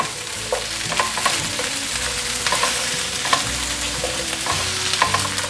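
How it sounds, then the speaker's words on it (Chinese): Tempeh, dried tofu and potato pieces are tossed and stirred in a hot wok, giving a loud, steady sizzle close up with repeated scraping and clattering strokes. "把刚刚炸好的食材通通放进来，天贝、豆干、马铃薯，快速翻炒"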